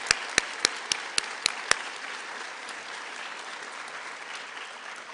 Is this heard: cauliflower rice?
no